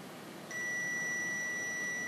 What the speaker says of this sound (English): the robot sends a notification noise out whenever the cup is almost full